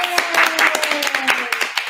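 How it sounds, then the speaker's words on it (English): A small group claps in a live K-pop interview setting, with quick irregular hand claps and cheering voices over it, fairly close. "And you guys deserve a round of applause."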